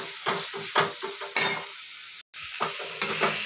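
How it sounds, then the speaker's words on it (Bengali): Spice paste with tomato sautéing in a pan, giving a close sizzle broken by repeated bursts of stirring and scraping, with a brief drop to silence partway through. "এবারে মশলাটাকে কষাবো"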